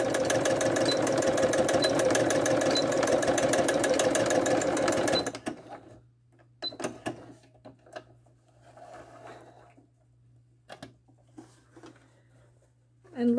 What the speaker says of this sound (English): press my start stop button, and there my pattern is stitching.